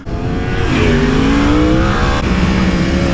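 Emis Killa's new motorcycle revs hard nearby, a loud continuous engine roar whose pitch climbs steadily and then holds high, with a faint squealing edge and no voices over it.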